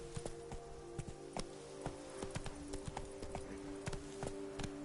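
Roach's hooves clip-clop steadily in The Witcher 3, a rhythmic run of close, even beats over a faint rain-like hiss with a steady background tone.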